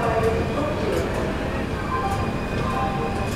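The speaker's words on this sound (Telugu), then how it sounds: "బండి నెంబర్ 17015 భువనేశ్వర్ నుండి విశాఖ ఎక్స్ప్రెస్ 1వ నెంబర్ ప్లాట్ఫామ్కు వచ్చి ఉన్నది" Visakha Express, train 17015 from Bhubaneswar, standing at platform 1 of Gudivada Junction station: a steady, loud station rumble with a low engine drone and faint rail noise, and voices underneath.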